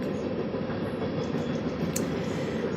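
A train rolls past on a nearby track, giving a steady, dense rumble and rattle that holds at an even level throughout, with no voices.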